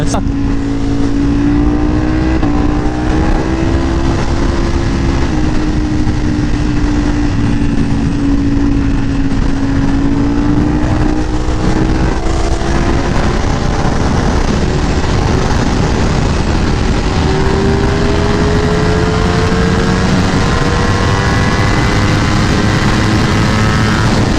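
A Ducati Panigale V4S motorcycle accelerates hard at night, its engine note rising and dropping through successive gear shifts over a continuous roar of wind, loud and steady throughout.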